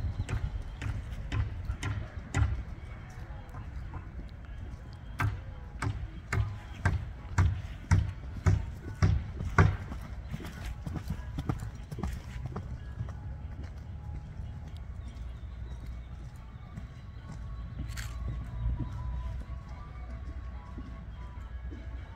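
Hooves of a dun horse with a blaze and four white socks clip-clop in a steady, fairly close rhythm as it walks and changes leads, with faint background murmur before the steps fade toward the end.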